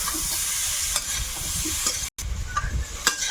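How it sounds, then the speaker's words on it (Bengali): Potatoes frying in a pan for an egg and potato curry, a close, steady sizzle with intermittent stirring scrapes and clinks across the clip, with no voices. "আলুটাকে আরেকটু ভেজে নিয়ে দেবো"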